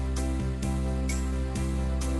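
Keyboard auto-accompaniment playing an Easy 4/4 rhythm pattern at tempo 130, sustained chords with regular drum hits landing about every half second, busy and steady with no one talking.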